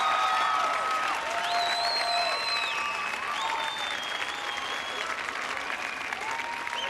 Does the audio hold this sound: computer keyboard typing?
no